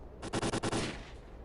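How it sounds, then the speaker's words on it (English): A quick burst of rapid gunfire in the video game Stalker: Call of Pripyat, several sharp shots in a row, rings out at moderate distance and then fades into a soft background. "Why am I hearing gunfire all of a sudden?"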